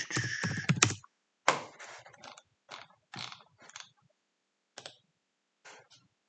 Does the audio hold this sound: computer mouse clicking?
yes